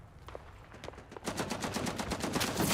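Machine gun fire in a Gallipoli-themed war video game: scattered single shots at first, then a sustained rapid burst of evenly spaced automatic rounds at moderate volume.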